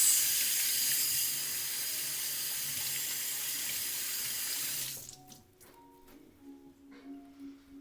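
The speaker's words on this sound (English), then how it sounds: "Give your hands a little rinse." Hands rinsed under a running kitchen tap while cooking, a steady close rush of water for about five seconds that cuts off abruptly, leaving faint clinks and handling sounds.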